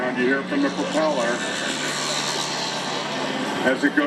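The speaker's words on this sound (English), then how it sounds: "thumping sound you hear from the propeller" An Alaskan Air National Guard HC-130J propeller aircraft passing at an airshow: a loud, sustained engine roar with propeller thumping, while a voice talks over it throughout.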